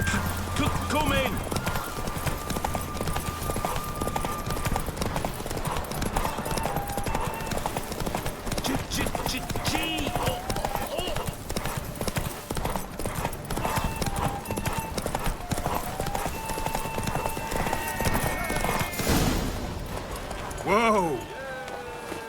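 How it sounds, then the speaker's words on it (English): Horse galloping in The Witcher 3 video game, rapid rhythmic hoofbeats running steadily throughout, with game music, a neigh near the end and a voice calling out over the gallop. "Run, Roach."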